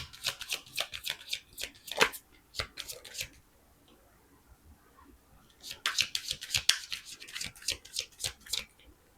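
Tarot cards being shuffled by hand in quick riffling bursts, with a short pause partway through before the shuffling resumes, close and fairly clear with no talking.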